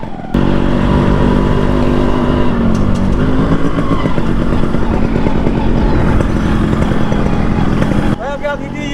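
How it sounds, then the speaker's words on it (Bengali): A Yamaha RX 100 motorcycle engine runs loud and close with a steady, throbbing drone that holds for several seconds before abruptly dropping away near the end. "ইয়ামাহা RX 100 পুরো আস্তির গাড়ি।"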